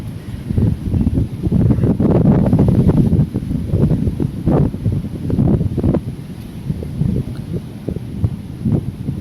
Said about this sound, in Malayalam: അപ്പോൾ അതിൻ്റെതായ കാറ്റ് കാര്യങ്ങളൊക്കെ നിങ്ങൾക്ക് ഫീൽ ചെയ്യും വീഡിയോസിൽ